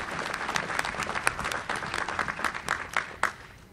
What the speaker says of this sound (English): How about a big round of applause for our new Secretary?